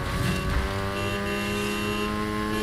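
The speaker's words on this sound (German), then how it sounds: "Ach, jetzt fährt er weg." A car in the racing video game Need for Speed Heat pulls away with a steady, loud engine drone and sustained revving tones throughout, with no voices.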